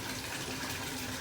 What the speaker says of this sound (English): you're going to just let the tub fill up